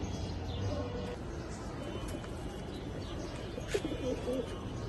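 Pigeons coo softly in a loft among a pair of top-quality Afsan Bagha silver pigeons, the low murmurs faint and continuous with a few chirps, while someone talks over them throughout.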